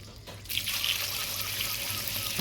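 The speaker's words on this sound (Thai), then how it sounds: "เราจะมาล้างปูก่อนจ้า" Running water pours steadily as rice-field crabs are washed for pickling, starting after a short quiet moment and continuing as a close, even splashing flow.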